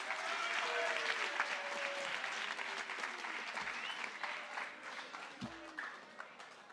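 An audience at a junior high academic awards ceremony claps steadily and warmly, a broad wash of applause that stays even before gradually thinning toward the end, with faint voices in the room.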